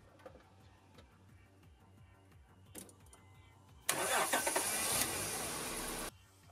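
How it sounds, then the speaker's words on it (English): A car engine is started from a string of six hand-cranked capacitors: quiet ticking and faint clicks come first, then the engine abruptly catches and runs loud and steady for about two seconds before cutting off. "a string of six capacitors, which he hand cranks and then is going to use to start his car."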